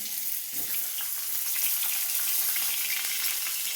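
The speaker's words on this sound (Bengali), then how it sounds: "তো পটলগুলোকে আমি সুন্দর করে ভেজে নেব, লাল লাল করে" Pieces of pointed gourd frying in hot oil, a dense, bright, continuous sizzle and crackle heard close up and steady throughout, with faint scattered pops underneath and no voices.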